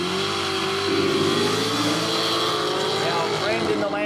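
Lamborghini sports car at a street drag racing event, its engine revving and rising in pitch close by under steady crowd and commentator chatter, the loud engine tone sustained through the moment.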